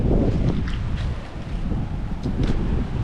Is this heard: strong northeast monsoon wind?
yes